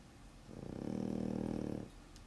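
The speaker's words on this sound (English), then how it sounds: "the sweet sounds of my dog snoring" A dog snores once, a single drawn-out, low, rumbling breath lasting over a second, close by and quiet in an otherwise hushed room.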